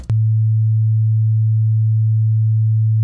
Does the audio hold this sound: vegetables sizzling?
no